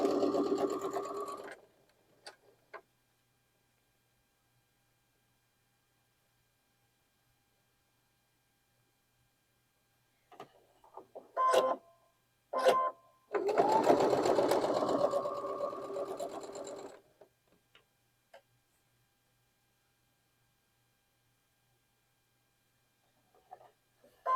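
Sewing machine stitching pieces of a Bear's Paw quilt block, running in short bursts and then one longer continuous run of several seconds, close and clear, with quiet pauses between.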